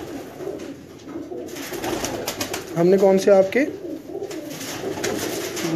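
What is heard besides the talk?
pigeons cooing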